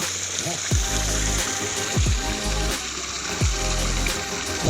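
Water from a natural spring flowing steadily at a garden pool, a constant rushing wash with several low splashing thumps at intervals and faint voices in the background.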